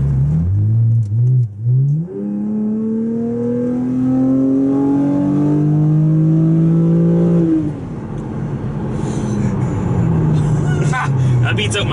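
Chevrolet Camaro V6 engine accelerating hard from the driver's seat, revs climbing in a long rising pull, then easing off as someone talks.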